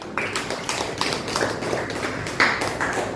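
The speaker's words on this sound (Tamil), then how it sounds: "நல்ல ஒரு கைத்தட்டு கொடுத்துடலாமே" Applause from a classroom audience during a reading lesson, a burst of hand clapping that comes in uneven waves for a few seconds, fairly close and moderately loud.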